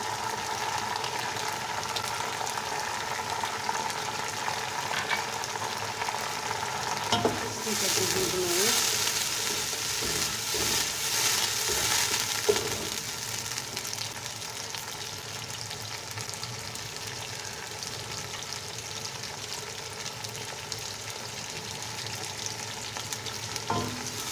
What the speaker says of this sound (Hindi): दो से 3 मिनट हो गए हम मसाले को भूनते हुए।